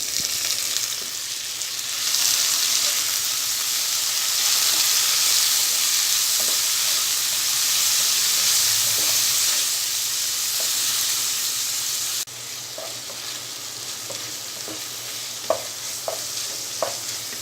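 Onion and tomato pieces fry in hot oil for baby corn biryani, a continuous close sizzle and hiss with occasional stirring clicks and scrapes in the later part.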